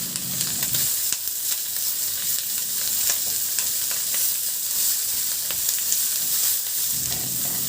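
Onions fry in a pan after garlic, while sitaw (string beans) are being cooked, making a loud, steady close sizzle that carries on unbroken, with a few faint clicks of a utensil and no talking.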